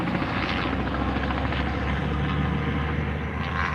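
A helicopter flies over a downtown area near several hospitals, its rotor thump and engine drone steady and fairly distant throughout, with no voices.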